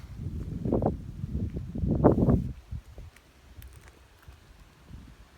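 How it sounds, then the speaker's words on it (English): Quick rustling scurries through dry leaves in two short bursts, followed by quieter scattered crackles and outdoor background. "I can hear them scattering through the leaves and the"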